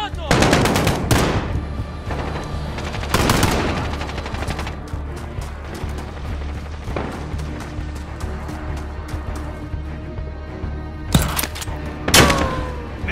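Gunfire in Call of Duty: Modern Warfare, with long bursts of automatic fire and sharp single shots over a rumbling battlefield background, loud and close, with several separate volleys and a voice briefly heard.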